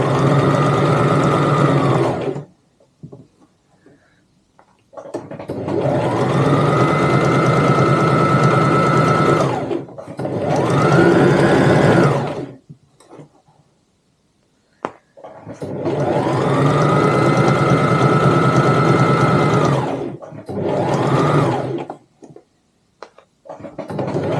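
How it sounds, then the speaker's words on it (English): Sewing machine stitching a pocket line on a tote bag, loud close motor whirring in several long runs of a few seconds each, separated by short silent pauses. "you're just going to sew up that line"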